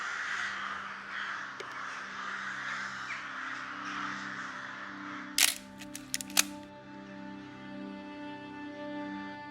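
Crows caw repeatedly, some near and some farther off, over a low background hum, with a few sharp camera-like clicks midway.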